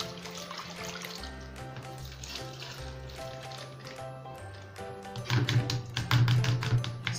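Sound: rinsing rice flakes in water

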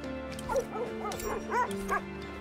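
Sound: sled dogs barking in the video game The Red Lantern

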